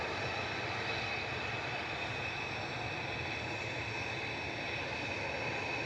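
Airliner G Sun M departing Manchester Airport for Ibiza, a steady, unbroken jet engine roar with a faint high whine, holding a constant moderate level throughout, with no voices.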